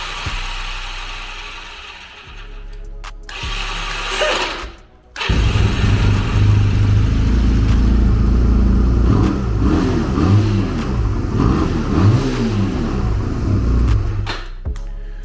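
A 1986 Honda Rebel CMX250 barn-find motorcycle cranks with uneven mechanical whirring, then its engine catches and runs loud and close, roughly and unsteadily idling for about ten seconds before dropping off.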